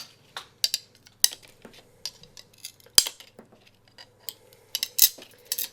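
Stained glass being cut along a template and snapped off with pliers: a run of sharp, irregular clicks, taps and crisp glassy cracks, close and dry, with several louder snaps standing out from quieter scoring ticks.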